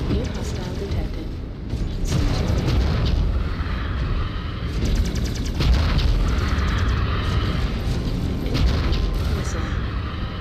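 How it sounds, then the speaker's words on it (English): A mech's reactor blows up in MechWarrior 5, a loud, sustained rumbling explosion with repeated booming bursts over about ten seconds, under heavy game noise and voice callouts. "Reactor breach. Explosion imminent."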